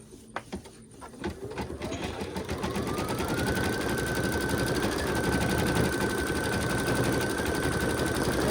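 Embroidery machine stitching stars onto fabric, a steady rapid mechanical chatter that starts after a few clicks and holds loud and even, with a rising whine joining in.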